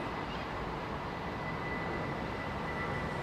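A McDonnell Douglas DC-10 airliner at London Heathrow Airport, a steady broadband engine roar that holds at an even, moderately distant level throughout, with no speech over it.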